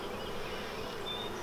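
Honeybees drone in a soft, continuous buzz around an open hive during an inspection, faint and steady without speech.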